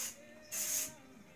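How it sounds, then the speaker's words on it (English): Texture spray misted onto curled hair, a single hissing burst of about 0.4 seconds, fairly close and moderately loud, after a quieter rustle. "So now we're going to take my texture spray."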